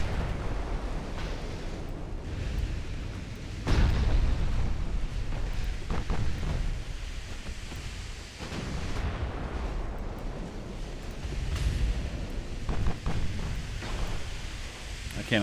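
Warship secondary guns fire in Ultimate Admiral: Dreadnoughts, a series of booming reports scattered over a constant rumbling battle din, loud and dense, with a voice talking over it at times.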